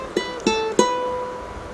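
Three plucked ukulele notes from a song intro, picked one after another at an even pace, with the last note ringing out clearly and no talking.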